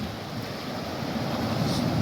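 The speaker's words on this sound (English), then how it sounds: "Ocean's really calm." Calm ocean water washes at dead low tide on Myrtle Beach, a soft continuous surf rush mixed with wind buffeting the microphone, close and fairly loud, with no voices.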